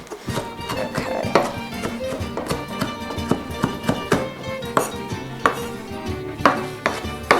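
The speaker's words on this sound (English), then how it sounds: "I'm going to chop it kind of finely" Sharp knife chopping parsley finely on a good cutting board, a quick, fairly even run of close, crisp taps that continues throughout.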